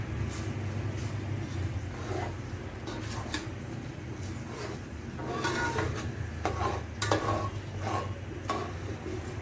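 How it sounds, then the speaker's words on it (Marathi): Ghee, jaggery and grated cucumber being stirred together in a pan for a rustic cucumber cake (dhondas): repeated scraping strokes of a spoon against the pan over a steady low background hum, with no talking. "तूप, गूळ आणि काकडीचा किस असं हे मिश्रण आपण एकत्र ढवळायचं आहे"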